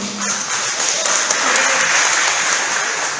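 Audience applause at a Minnesota Republican gubernatorial debate, a dense, steady wash of clapping from a crowd that fills the hall, loud and sustained throughout.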